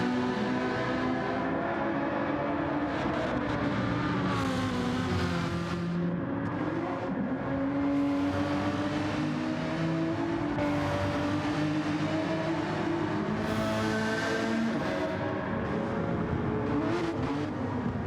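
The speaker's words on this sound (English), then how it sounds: "Ferrari versus Lamborghini. It is on." Ferrari and Lamborghini race cars duel in a Vegas Cup Series race, engines droning loudly and steadily with rising and falling pitch as they rev through gears, continuous for the whole stretch with no talk.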